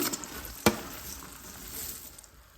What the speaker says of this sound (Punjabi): ਹੁਣ ਆਪਾਂ ਨੇ ਇਹਦੇ ਵਿੱਚ ਮਿਰਚਾਂ ਪਾ ਦੇਣੀਆਂ